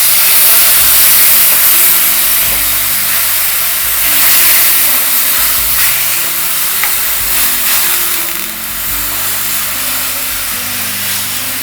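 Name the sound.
thin coconut milk added to sautéing spices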